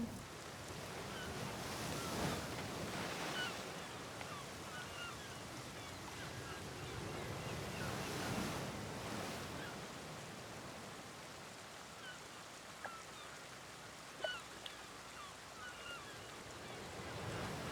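Sea waves wash over rocks in a steady, continuous roar with gusts of wind, with no voices.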